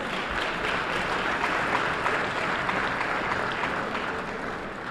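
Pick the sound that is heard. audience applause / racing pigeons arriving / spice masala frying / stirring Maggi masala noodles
audience applause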